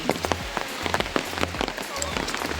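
Steady rain falls in an eco park, a dense hiss of drops pattering on surfaces with a few brighter splashes throughout, close and continuous, with no voices.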